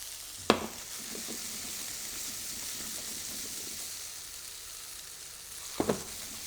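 Sausage and potato gnocchi fry in oil in a pan with a steady, even sizzle throughout, broken by two sharp clatters of stirring near the start and end.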